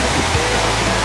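Waterfall at Bangon Falls in Samar, a constant close roar of rushing, falling water filling the whole moment with broadband hiss.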